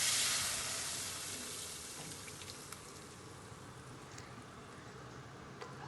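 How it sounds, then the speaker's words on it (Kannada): Cooked spinach and toor dal tipped into a fried tempering for palak dal give a steady, soft sizzle that starts strongest and eases into a low, even crackle, with no talking. "ಇದನ್ನೀಗ ನಾವು ಫ್ರೈ ಮಾಡಿಟ್ಟ ಈ ಮಿಶ್ರಣಕ್ಕೆ ಇದನ್ನು ಹಾಕಿಕೊಳ್ಳುವ"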